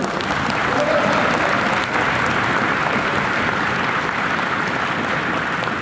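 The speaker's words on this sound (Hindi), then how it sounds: "आप एक बार तालियां बजा के मेरी बात का समर्थन कर दे सब" Audience applause at a national poetry gathering in a large hall, a dense, even wash of many hands clapping that holds steady for several seconds.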